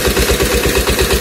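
A 20 HP diesel engine driving a 6-inch water pump runs loud and close, thumping in a fast, even rhythm with a clattering, vibrating drone.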